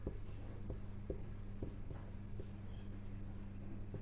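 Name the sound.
writing steps in class notes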